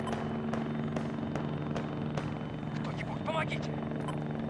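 A helicopter in the video game Arma 3 thumps with a steady rotor drone throughout, loud and continuous, with brief sharp clicks and a short burst of voice over it.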